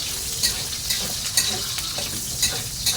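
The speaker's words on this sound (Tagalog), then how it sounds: "magigisa tayo ng bawang" Garlic sautéing in oil for adobo, a steady close sizzle broken by regular scrapes and taps of a spatula stirring the pan.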